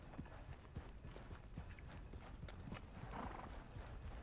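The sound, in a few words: horse hooves in video game Red Dead Redemption 2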